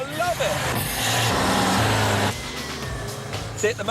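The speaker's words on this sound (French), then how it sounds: "La voiture adhère parfaitement à la route. C'est euphorisant à conduire." An all-wheel-drive car driving on a road, giving a steady engine and tyre roar with a shift in pitch midway, loud and close, with brief voice sounds at the edges.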